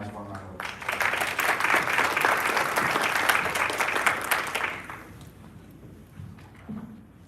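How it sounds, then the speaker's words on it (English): Warm audience applause fills a commemorative ceremony hall, dense steady clapping for about five seconds that then fades out, followed by quiet room tone and a speaker beginning to talk. "let's give us him a nice warm round of applause"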